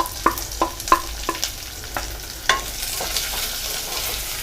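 Garlic, shallots and green chillies stirred in a pan for fish curry, with spoon scrapes repeating at a steady rhythm over a soft frying sizzle, loud and close, without speech.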